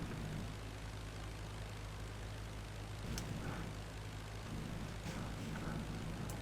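A World War I era propeller plane engine idling at low throttle in the IL-2 Flying Circus flight simulator, a constant faint droning hum with a soft low throb and a few small clicks over it.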